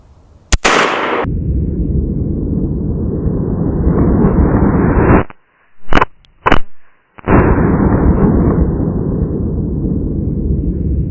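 .357 Magnum revolver firing a 158 grain jacketed hollow point round at about 1500 feet per second into a Boston butt pork roast: one sharp, loud report, then sustained rumbling noise with a few brief sharp cracks.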